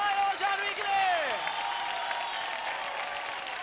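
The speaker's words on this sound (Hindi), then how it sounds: "क्या बात है, जोरदार तालियां हो जाए जय और जानवी के लिए।" Audience applause in a TV dance competition studio, a dense steady wash of clapping lasting several seconds, with a sliding musical tone and stage sound over the start.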